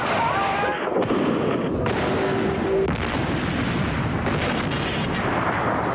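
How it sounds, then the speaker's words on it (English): Artillery fire during ethnic fighting in the former Yugoslavia booms and rumbles in a dense, continuous barrage, loud and close, with a sharp blast near the start and lingering roar. "Ethnic fighting in the former Yugoslavia is punctuated by all types of artillery"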